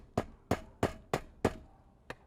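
A hammer drives nails into roof shingles with six sharp, evenly spaced strikes, close and loud, the last one lighter.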